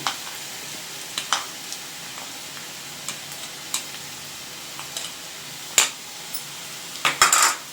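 Onions fried until reddish in a pan with ground grated coconut, cooked for a Karnataka-style yengaayi badanekaayi (stuffed brinjal) curry; soft sizzling underlies scattered scrapes and clinks of a stirring spoon against the pan, sharpest near the end.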